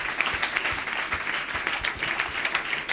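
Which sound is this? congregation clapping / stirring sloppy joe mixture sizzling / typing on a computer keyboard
congregation clapping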